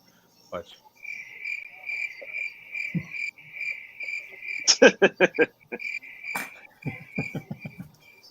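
A crickets-chirping sound effect plays as a gag after a joke: a sustained cricket trill runs through, broken by clusters of sharper chirps and croaky taps, fairly close, with no talking.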